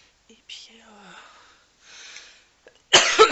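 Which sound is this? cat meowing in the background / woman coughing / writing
woman coughing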